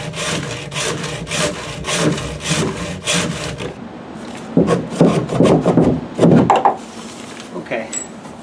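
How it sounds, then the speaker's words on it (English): PVC drain pipe cut with a hand saw, heard as rhythmic rasping strokes close by, a brief pause, then a few more harder strokes before it stops. "I'm going to cut the PVC pipe now"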